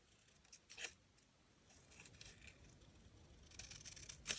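Scissors snip a paper label, with a few quiet, close cuts and faint rustling of paper in an otherwise hushed room.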